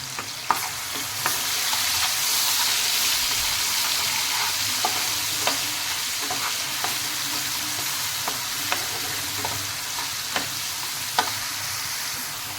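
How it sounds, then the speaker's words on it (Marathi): An onion and tomato mixture sautés in oil for misal tarri, a steady close sizzle with a spoon scraping and tapping the pan at regular intervals. "त्याच्यामध्ये आता मी हे कांदा टोमॅटोचं मिश्रण घातली आहे आणि ते आपल्याला चांगलं परतून घ्यायचं आहे"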